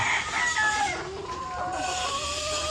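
Gamefowl roosters crowing nearby, several overlapping cock-a-doodle-doo calls with some clucking, loud and continuous through the whole moment.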